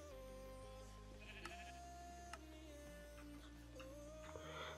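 Sheep bleating in the Minecraft video game, set against steady droning game music; the bleats are soft and sit low in the mix.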